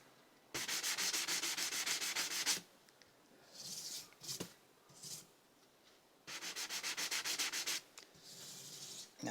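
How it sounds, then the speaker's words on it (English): Frets on a Monoprice Classic 66 V2 guitar being rubbed to remove grime, heard as rapid, rhythmic back-and-forth scrubbing strokes, close and fairly loud, in two long bursts with shorter rubs between them. "I can go across the top of the frets to get some of the grime off"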